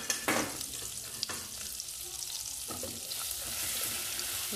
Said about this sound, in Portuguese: Deixa eu dar uma douradinha aqui, né, neste alho com a margarina